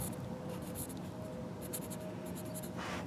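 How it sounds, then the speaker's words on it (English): A pen or marker scratches steadily while the bolt size is written on a John Deere 1025 tractor part during an oil change, in short, close strokes with no talk. "One other thing I'm going to do is write the bolt size."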